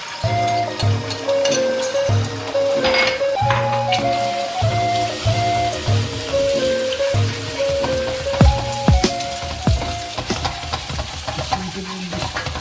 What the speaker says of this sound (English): We are gonna scramble the egg first and keep aside.